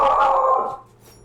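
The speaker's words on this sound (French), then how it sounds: "Il y a un chien qui aboie." A single short dog bark or yelp rings out loud and close in a Diablo 4 game setting, fading within a second.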